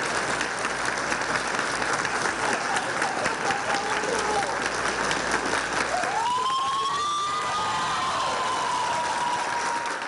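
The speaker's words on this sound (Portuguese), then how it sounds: "foi saudado com palmas." Sustained applause from an audience at a graduation ceremony, a dense continuous patter of clapping close by, with a rising whistle-like tone near the end.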